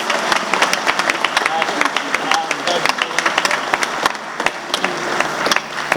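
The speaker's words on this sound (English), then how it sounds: "let's give a round of applause to our parents, guardians, sponsors," Applause at the UPSA 2023 graduation ceremony, with many crisp, uneven hand claps rattling close by and crowd voices murmuring beneath throughout.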